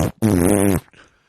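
A fart sound, a single loud buzzing blast lasting about half a second after a short lead-in, close and dry, followed by faint trailing noise.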